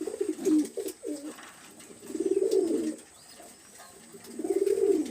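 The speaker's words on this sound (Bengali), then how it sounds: "এখানে দুইটা নর কবুতর আছে দেখছেন" Male pigeons coo in three separate rounds of low, throaty, warbling calls, close and clear against faint background noise.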